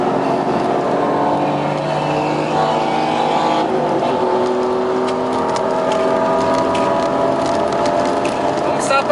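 A Porsche race car on a circuit during a track session, its engine droning loudly and steadily throughout with shifting pitch, while someone talks over it.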